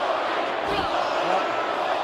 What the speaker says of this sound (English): What about listen to this crowd? The Foley chant going up